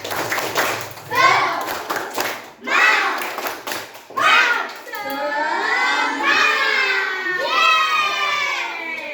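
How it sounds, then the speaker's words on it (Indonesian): A group of children do rhythmic spirit clapping together in bursts, joined by loud shouting and cheering voices, with a few pauses between rounds, in a classroom. "Ayo tepuk semangat dulu. Ya, tepuk semangat."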